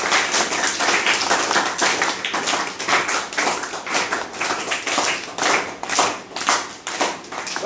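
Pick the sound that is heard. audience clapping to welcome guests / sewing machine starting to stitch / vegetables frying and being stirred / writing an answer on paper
audience clapping to welcome guests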